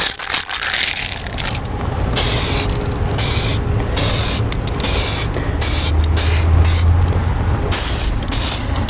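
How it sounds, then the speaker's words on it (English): Close, loud hissing bursts of primer spray paint land on old rusty, blued exhaust headers, several long sprays broken by short pauses, with rattling and scraping between them. "So now we'll go ahead and get started painting our headers with the primer spray."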